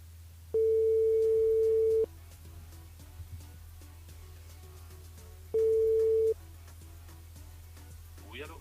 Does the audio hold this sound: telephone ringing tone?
yes